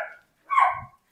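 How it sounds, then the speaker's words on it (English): A dog barks indoors at home, two short sharp barks close to the microphone with a brief pause between them. "Those are my dogs, and hopefully we won't get interrupted again."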